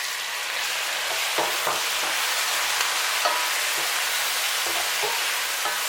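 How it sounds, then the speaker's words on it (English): Tomatoes frying in a pot for a Cameroonian beans dish make a steady, dense sizzle, with soft scraping stirs breaking through now and then, close and continuous. "Fry your tomatoes till dry."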